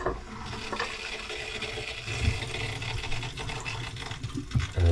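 Water fills a shower tray aboard an old Dutch barge, a rushing, bubbling gurgle that stays fairly loud and busy for several seconds, with no voices.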